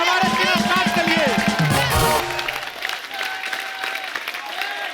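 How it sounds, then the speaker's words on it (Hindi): A studio audience at a comedy show claps. A burst of applause and crowd noise is mixed with voices and music, then thins to a lower, sustained clatter of clapping. "जोरदार तालियां हमारे स्टार्ट के लिए।"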